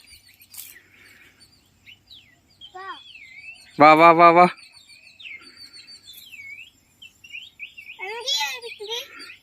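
A small sparrow chirps close by in scattered short, high tweets. A voice calls out loudly in the middle, and quieter chatter runs between the chirps.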